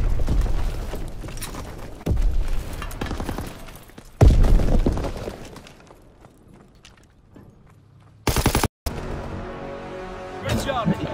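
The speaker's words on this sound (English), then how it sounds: "Enemy strafing run, inbound!" Enemy strafing run in a video game: bursts of rapid gunfire and heavy impacts, loud and close, broken by quieter stretches and a sharp cut, with a game voice announcing over the action.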